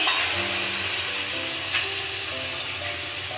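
Ridge gourd sautéed and stirred in a hot pan with salt for a Bengali poppy-seed dish, giving a steady close sizzle and frying hiss throughout with light scraping of the stirring, no talk.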